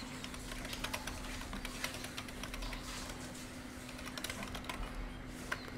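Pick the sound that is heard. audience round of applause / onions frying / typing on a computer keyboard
typing on a computer keyboard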